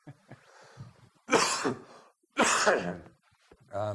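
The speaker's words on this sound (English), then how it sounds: "I'm going to have to cough a little bit violently" Two harsh, forceful coughs, each a loud burst with a short gap between, following some quiet breathy sounds and throat noises.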